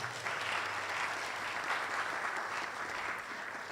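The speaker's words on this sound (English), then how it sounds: "let's give a round of applause to the organizer," Applause from a conference audience for organizers, hosts and sponsors at an Asia Pacific futures network launch and awards ceremony, a steady even wash of clapping heard from a distance, fairly faint and continuous with no talk over it.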